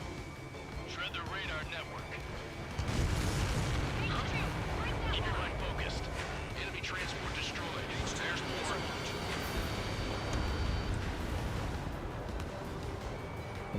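Cluster bomb blasts in the combat flight game Ace Combat 7: Skies Unknown, a dense, sustained rumble of explosions and jet engine noise that swells sharply around three seconds in and stays loud and continuous.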